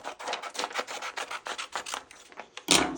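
Watercolour wash vellum is trimmed for card making, giving a quick series of close, dry rasping cuts or slices, with a louder final stroke at the end and no talk.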